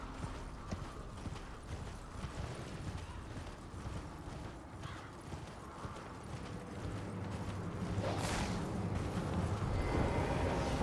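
Horse hooves clop rapidly and steadily across ground in the video game Elden Ring, a continuous galloping rhythm under ambient game noise and a rising rumble near the end.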